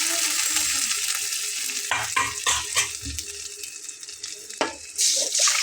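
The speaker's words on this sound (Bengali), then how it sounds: "প্রথমে এক চামচ পরিমাণ ডাল দিয়ে তারপরে আমি সবগুলো ডাল ঢেলে নিচ্ছি" Sour lentil dal with raw mango poured into hot fried spices: a loud, steady sizzling hiss, then watery splashes and spoon scrapes as the lentils go in and are stirred, with a burst of sizzle near the end.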